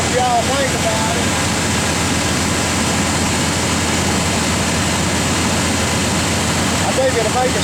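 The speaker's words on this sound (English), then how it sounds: "That's a smooth running motor." An old red truck's engine idles steadily and smoothly at close range throughout, a constant low rumble with no talk over it.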